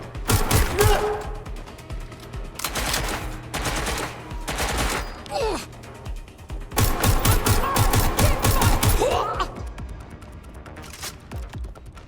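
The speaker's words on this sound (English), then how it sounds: "I'm getting shot at here! I'm taking a bullet!" Rapid bursts of gunfire crackle in loud volleys separated by brief pauses, with a person being shot at amid the shooting.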